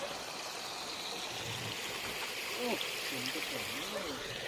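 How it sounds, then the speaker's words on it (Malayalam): Steady rushing water from a hilltop stream at Maniyanthiram, Vazhakkulam, fills the background, with a few voices faintly calling over the constant flow. "അരുവി അരുവി"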